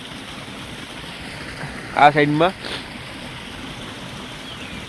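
Irrigation water runs steadily into a channel in a wheat field, a soft, even outdoor rushing hiss throughout, briefly interrupted by someone speaking a few words.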